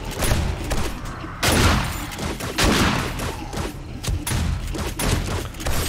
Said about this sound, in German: Oben das Geschütz macht auch schon gut mit.